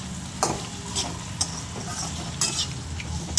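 Soya chunks fry in oil in a pan, giving a close, steady sizzle broken by several sharp scraping clicks from a stirring spoon.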